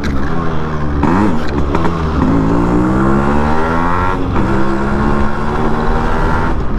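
A Yamaha RX100 two-stroke motorcycle revs hard and close during a sudden wheelie, its loud, buzzy engine note climbing and dipping in pitch without pause for several seconds.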